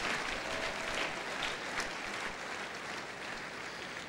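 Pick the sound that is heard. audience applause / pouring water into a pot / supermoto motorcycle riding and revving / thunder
audience applause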